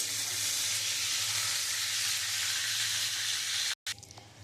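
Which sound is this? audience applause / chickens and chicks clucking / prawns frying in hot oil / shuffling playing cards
prawns frying in hot oil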